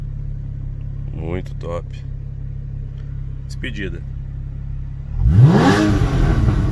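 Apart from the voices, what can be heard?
Porsche Cayman S 981 2013 engine revving loudly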